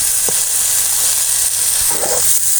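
Pirandai leaves with coriander, curry leaves and mint sauté in a pan, giving a loud, steady hiss-like sizzle with a couple of faint stirring knocks.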